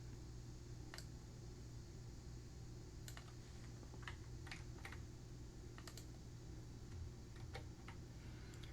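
Quiet, scattered keystrokes on a computer keyboard, a handful of light clicks spaced irregularly over a low steady hum, with no talking.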